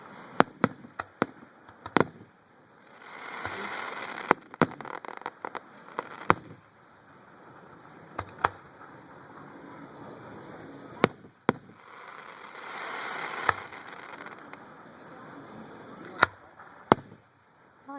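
A fireworks show in Leonard, Texas: repeated sharp booms and cracks at irregular intervals, some in quick bursts, with crackling and whooshing stretches between, heard from a distance outdoors.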